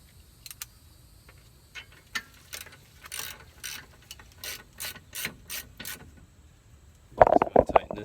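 A hand ratchet clicks in short repeated strokes while tightening a bolt on the front wheel hub of a 2008 Dodge Nitro, sharp and close, ending in a louder, denser flurry of clicks.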